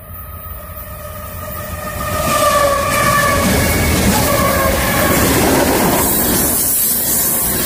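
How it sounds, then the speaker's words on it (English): An ethanol freight train rolls past in Ohio, building from a horn blast into a loud, sustained rumble and rattle of cars clattering along the tracks. "Another ethanol train."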